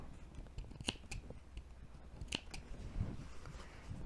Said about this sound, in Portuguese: mesmo com a tesoura de picotar, ela ainda tem que dar uns piquezinhos